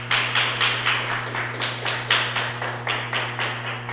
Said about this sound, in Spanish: Denle una ofrenda de aplausos al Señor.